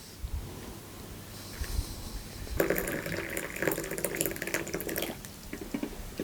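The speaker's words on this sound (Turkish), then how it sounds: "şimdi suyu koyalım" Water flows into a Stanley Adventure 1 L thermos as a soft, steady liquid pour that grows fuller and splashier partway through, close up and fairly quiet, with no talking.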